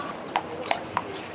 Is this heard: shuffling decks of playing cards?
no